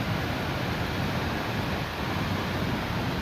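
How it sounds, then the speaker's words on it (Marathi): Heavy monsoon rain pours down near a waterfall and the Bhatghar reservoir in Bhor, Pune, Maharashtra, a loud, steady, unbroken hiss that fills the whole stretch with no voices. "बघा किती पाऊस पडतो."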